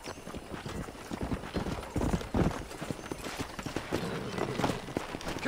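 Horse hooves clip-clop in a steady, quick rhythm in Red Dead Redemption, close and continuous with no talking.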